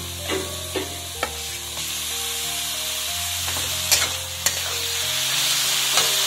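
About 500 grams of carrots fry in hot oil with softened, lightly browned onions for a Bengali carrot relish, making a steady, close sizzle. Occasional stirring knocks and scrapes sound against the pan.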